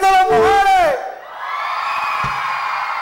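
A crowd at a live orchestra concert in Puebla cheers and shouts loudly after an announcer calls out, followed by a sustained roar of voices.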